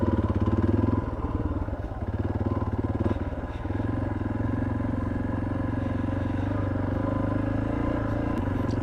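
A motorcycle ridden off-road at night on dirt tracks near a back gate, its engine droning steadily and close with a rough, throbbing idle-to-cruise rumble, slightly louder in the first seconds, with no talk over it.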